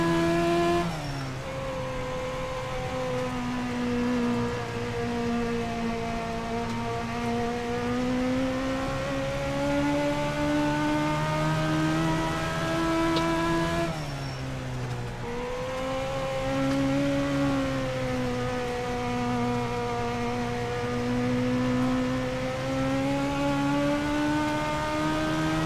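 Dirt race car engine in the iRacing sim during a hot lap, a loud steady drone with rising and falling revs, one sharp drop and recovery midway as the driver lifts and accelerates again, no voices.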